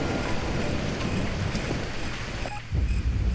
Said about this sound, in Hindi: बारिश की आवाज तेज हो जाती है